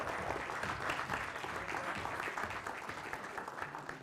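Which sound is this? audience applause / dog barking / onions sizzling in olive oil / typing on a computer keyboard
audience applause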